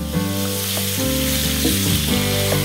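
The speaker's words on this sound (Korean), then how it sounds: "마늘기름 볶아 매콤한 맛과 향을 내고" Garlic sizzles hard in hot oil, a loud, close, continuous frying hiss with a few crackles and utensil knocks over a low hum.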